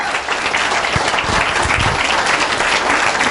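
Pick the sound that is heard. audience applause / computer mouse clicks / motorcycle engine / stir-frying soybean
audience applause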